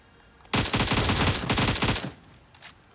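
Rapid burst of shotgun gunfire in the PUBG video game, a dense loud volley of sharp blasts lasting about a second and a half before cutting off.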